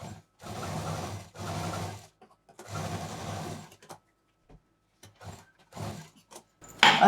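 A sewing machine runs in several separate bursts as piping is stitched along the sides of a homemade cloth tote bag, each run close and steady, with short pauses between them.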